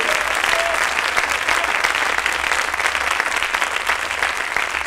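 A church congregation bursts into loud, sustained applause that fills the room steadily, with a faint voice briefly audible beneath the dense clapping.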